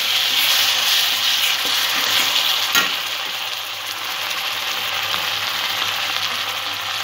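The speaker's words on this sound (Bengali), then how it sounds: "2 চা চামচ আদা বাটা, মশলাটা একটু কষে নেব।" Spice paste with ginger paste frying in a pan, a constant bright sizzle with light occasional stirring scrapes and one sharper clink, close and steady with no voices.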